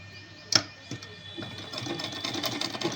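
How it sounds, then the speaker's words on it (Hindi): A sewing machine stitches along the edge of a garment's neckline, opening with a sharp clack, then a rising, steady mechanical whir as the fabric is fed through. "इस तरह पलटते हैं और सिलाई लगाते जाते हैं।"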